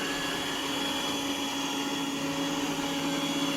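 A Yeedi robot vacuum cleaner running indoors, a steady, fairly quiet whirring hum with a faint tonal whine, continuous and unchanging throughout with no talking.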